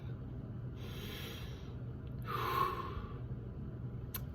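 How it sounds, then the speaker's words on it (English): A slow, deep breath drawn in and let out alone during a home workout session, soft and close, swelling gently to a fuller exhale in the middle against quiet room background. "take a deep breath"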